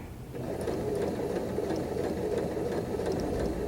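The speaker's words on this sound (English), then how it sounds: "we know this needle is going to be stitching straight" A sewing machine runs steadily for a few seconds while stitching an inside curve seam, giving a continuous close mechanical whirr with a dense rapid needle rhythm and no voice over it.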